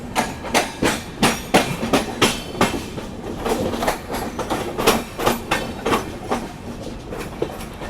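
The Pushpak Express pulls out of a station and runs on, its wheels beating a loud, regular clickety-clack over rail joints that speeds up and evens into a steady rhythm, with no voices.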